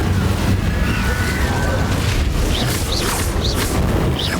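A fiery Incendio spell blast from the Hogwarts Legacy video game roars steadily and loudly, a dense whooshing burn layered with crackling magical effects and chirping tones throughout.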